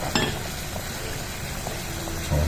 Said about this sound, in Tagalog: Kulong-kulo na